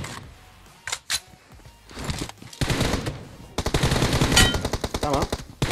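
Rapid automatic pistol and rifle fire in the mobile battle-royale game PUBG Mobile comes in loud, close bursts of sharp shots, with the volleys growing denser and more sustained toward the end.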